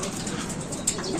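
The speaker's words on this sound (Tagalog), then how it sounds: "2 ang ating ibon na pauwi" Racing pigeons return home to the loft, with soft cooing and faint wing sounds heard briefly and quietly against low background noise.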